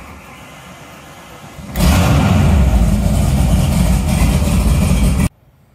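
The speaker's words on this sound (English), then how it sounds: "I went ahead and put the muffs on the motor with water running just to give it a quick start" An outboard boat motor on flush muffs with water running cranks and fires after a quiet stretch, then runs loud and steady for several seconds before cutting off abruptly.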